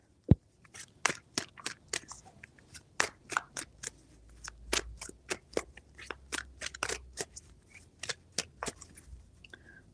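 Tarot cards are shuffled by hand in a quick series of crisp riffling slaps and flutters, close and fairly quiet, with a few short pauses between bursts and no speech.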